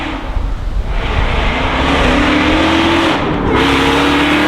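The engine of a supercharged 862bhp Ford Mustang GT revs loudly up close. It drones at a steady pitch, then rises in a climbing rev and briefly dips before picking up again.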